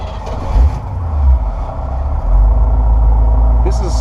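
A 1971 GMC Suburban creeps along in first gear, its low engine rumble swelling and easing in a couple of surges before holding a steady drone, with a person talking briefly over it.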